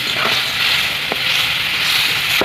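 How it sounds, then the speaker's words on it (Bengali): Water and ground poppy paste hit a hot pan, setting off a loud, close, continuous sizzle with a couple of brief utensil clicks and no voices. "তো আমি এবার অল্প একটু জল দেবো, একদম এবারে বেটে নেওয়া পোস্তটা দিয়ে দেবো।"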